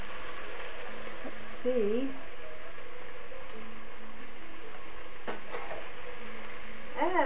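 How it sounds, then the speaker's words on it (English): Vegetables fry in a pan and get stirred, a steady soft sizzle running throughout beneath a person talking. "we need to stir our veggies again"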